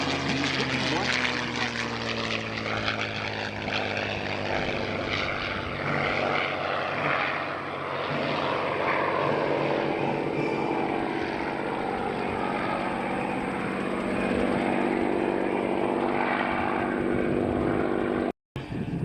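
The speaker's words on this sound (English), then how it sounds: "And now from the right, in tribute to honor these American heroes, Doug Rosendahl, P-51C." A P-51C Mustang warbird flies past at an airshow, its propeller engine droning loudly and steadily throughout while an announcer talks over it.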